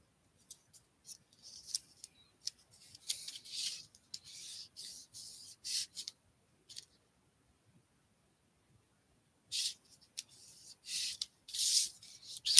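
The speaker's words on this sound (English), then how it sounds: "Just burnishing this down." A craft project for Christmas is burnished by hand, giving soft, dry scratchy rubbing strokes in short bursts with quiet pauses between, close and faint.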